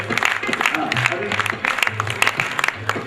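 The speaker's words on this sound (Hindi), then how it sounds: "तालियों से स्वागत।" Applause welcoming offerings at a Jain temple consecration festival, with clapping bursting in uneven waves over a bed of talk and background music from the gathering.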